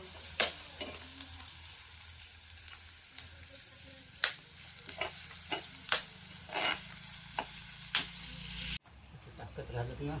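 Onions fry in a pan with a soft, steady sizzle, broken by several sharp scraping strokes of a spatula against the pan at irregular intervals. The sound is close and fairly quiet.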